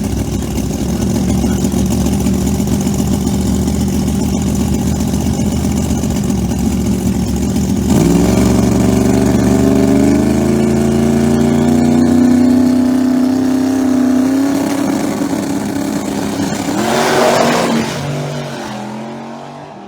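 ProMod drag race cars with nitrous and twin turbochargers roar at full throttle, a loud sustained engine blast that steps up in pitch midway through the run and fades slightly near the end, with no talk over it.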